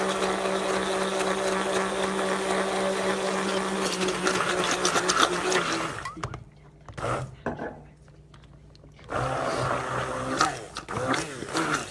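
Electric mixer whirs loudly and steadily while blending paleo mayonnaise, its motor labouring as the mixture thickens, then cutting out briefly before starting again; a voice talks over it.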